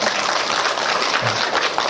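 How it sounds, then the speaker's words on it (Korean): A church congregation claps together during a Sunday worship service, producing a broad, continuous wash of applause from many people that holds at a steady level for a couple of seconds. "우리 박수 한번 하십시오"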